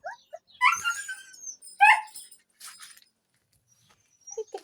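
A small dog whimpering and yipping in high, thin bursts close by, trailing off into quiet with a few faint whines at the end.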